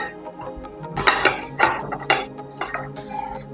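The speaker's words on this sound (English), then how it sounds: "I'm going to be needing this type of pan." A metal pan is picked up and handled in a home kitchen, with several close clanks and clinks of cookware, spaced irregularly and fairly quiet.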